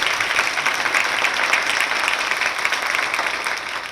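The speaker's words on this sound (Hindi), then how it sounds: "एक बार जोरदार तालियों से उनके काव्य पाठ को आमंत्रण दें।" Steady, dense applause from an audience at a political satire poetry event, welcoming a poet to the stage, loud and continuous throughout with no talking.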